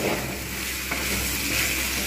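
Taro, potato and tomato fry with salt in a pan while being stirred, giving a steady, close sizzle that carries on alone throughout.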